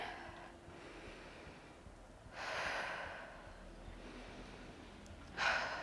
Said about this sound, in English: I'm breathing hard after those step back lunges.